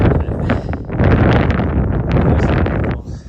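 Strong wind buffets the microphone in loud, rumbling gusts, with rustling and flapping mixed into the roar, on an outdoor trail.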